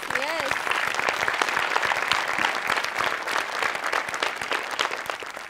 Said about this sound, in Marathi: आज आपण ज्युनियर्ससाठी एकदा टाळ्या वाजवूया.